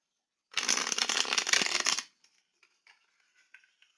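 A tarot card deck shuffled in one loud, dense riffle lasting about a second and a half, followed by faint scattered card taps and small handling sounds.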